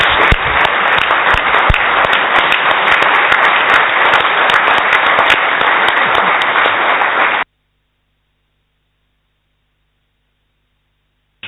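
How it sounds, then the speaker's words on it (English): Round of applause at a council budget-setting meeting, dense and steady clapping from a roomful of people for about seven seconds before cutting off abruptly into silence. "I would ask you all to join me in a round of applause for this wonderfully fit person"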